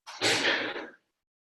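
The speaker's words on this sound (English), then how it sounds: "Excuse me, I'm going to sneeze." A single short, breathy burst close to the microphone, a sneeze lasting under a second, then silence.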